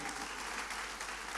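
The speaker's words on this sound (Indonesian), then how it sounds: "Tepuk tangannya yang paling meriah buat Tuhan kita." Sustained applause from a church congregation at a Pentecostal-style worship service, dense steady clapping filling the whole moment at a moderate, even level with no voices on top.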